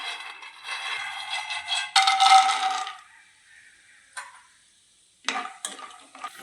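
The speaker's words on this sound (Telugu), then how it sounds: "ఆయిల్ వేడెక్కిన తర్వాత పల్లీలు వేస్తాను" Peanuts dropped into hot oil and stirred while making simple poha: hissing sizzle with scraping stirs in uneven bursts, close and fairly loud, broken by short quiet gaps and small clinks.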